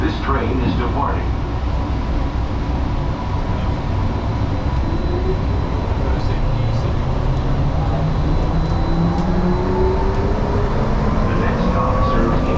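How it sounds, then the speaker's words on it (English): An airport people mover train rumbles and whines as it pulls away, a steady loud roar with rising electric motor tones, heard from inside the car. "Please hold on. This train is departing."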